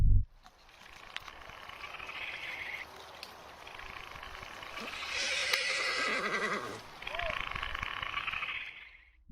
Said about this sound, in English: riding their horse along a quiet forest trail